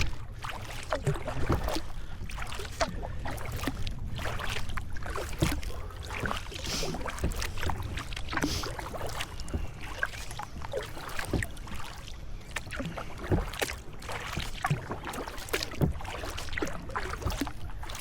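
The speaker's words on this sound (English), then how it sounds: "A little bit of a noise echoing through the boat as we gently rock side to side" Hollow knocks and creaks resonate inside a kayak hull as it gently rocks side to side on the water at Black Rock Sands, soft irregular thuds over a quiet wash.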